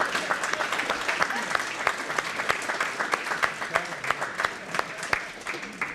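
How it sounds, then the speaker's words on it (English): An audience at a Veterans Day ceremony for active-aging seniors claps steadily, a dense sustained round of applause with sharp individual claps standing out throughout. "I'd love for us all to give them a round of applause."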